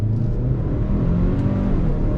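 A 2022 Hyundai Santa Cruz Limited pickup accelerating under throttle with its 8-speed automatic in paddle-shift mode, a steady low engine drone and road rumble filling the cabin, close and continuous.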